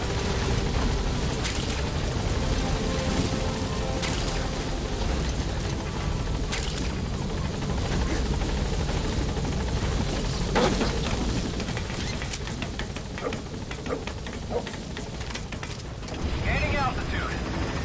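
Extraction helicopter taking off in the video game Metal Gear Solid V, a continuous close rotor thump and engine roar lasting throughout, with brief clanks and mechanical noises over it.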